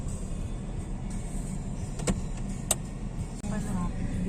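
Cars stalled in heavy traffic in the Philippines heard from inside a vehicle, a steady low engine and road rumble with a few short clicks and a brief whir near the end.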